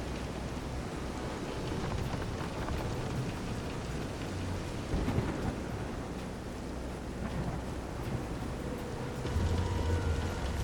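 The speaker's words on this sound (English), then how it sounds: "This is some storm." Heavy storm rain pours in Visions of Mana around a pitching boat, a dense continuous hiss with low rumbling swells and a couple of louder surges, no voices heard.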